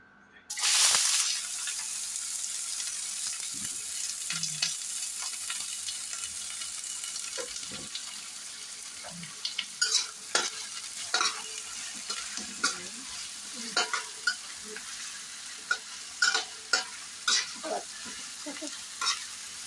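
Onion sizzling in a hot frying pan while a utensil stirs and scrapes it, a steady close hiss broken by sharper clinks and scrapes toward the end, with no talk.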